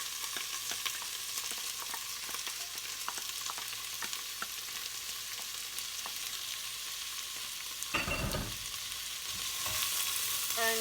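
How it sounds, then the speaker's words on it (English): Finely chopped onions fry in a pan, a quiet, steady sizzle and crackle with scattered pops, then a brief clatter of stirring near the end as the mixture is moved around. "in this bowl I have 4 onions mixed, and then we're just going to fry that in like so"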